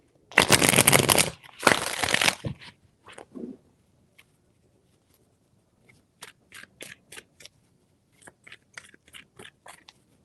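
Tarot cards riffled in two long, dense bursts close by, followed by sparse soft taps and flicks as cards are set down, with quiet pauses between.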